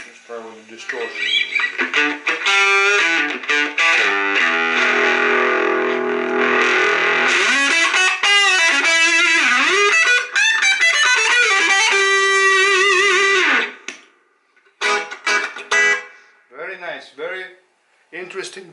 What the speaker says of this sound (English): let's try with the distortion.